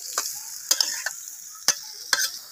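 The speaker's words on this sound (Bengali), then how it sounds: "তো এখন সুন্দর করে আপনার মশলার সাথে সুন্দর করে এটাকে কষিয়ে নিতেছে" Potato curry is sautéed with spices in a pot over a clay stove, a low sizzle under a few sparse, sharp taps and scrapes as it is stirred.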